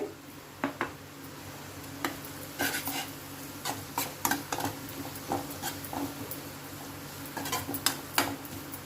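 Carrots fry in a pan during the making of mint rice while a utensil stirs them, giving repeated scrapes and light metallic clinks over a soft, steady sizzle, close by with no talking.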